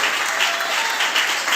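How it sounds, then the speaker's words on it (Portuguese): A church congregation bursts into dense, continuous applause, many hands clapping at once in an unbroken loud wash with no clear beat, close and filling the space. "Pode bater palmas para o Senhor"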